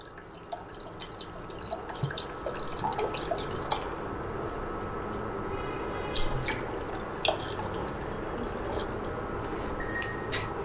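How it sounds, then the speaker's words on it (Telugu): Water poured into a pot for tea on a stove produces a continuous trickling splash with scattered drips and small clinks, close by and steady throughout, without speech. "నేను 2 కప్పులన్నర నీళ్ళు వేసాను"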